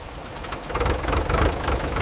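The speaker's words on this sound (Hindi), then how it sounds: "बारिश आ गई" Steady rain falls on a farm at night, a broad hiss of drops striking surfaces that swells after the first moments and stays dense and even, with a low rumble beneath and no voices.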